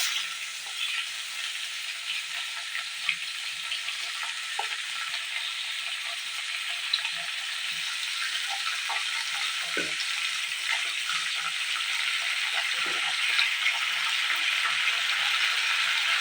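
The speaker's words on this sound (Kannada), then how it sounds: "ನಾವು ಹಾಕಿರುವಂಥ ಈರುಳ್ಳಿ ಮತ್ತು ಟೊಮೊಟೊ ಚೆನ್ನಾಗಿ ಫ್ರೈ ಆಗಬೇಕು ಅಲ್ಲಿವರೆಗೂ ನಾವು ಎಣ್ಣೆಲಿ ಚೆನ್ನಾಗಿ ಫ್ರೈ ಮಾಡ್ಕೊಳ್ತಾ ಇದ್ದೀನಿ" Onions and tomatoes frying in oil for a potato curry, a dense, continuous sizzle with occasional soft scrapes of stirring, close and steady with no talking.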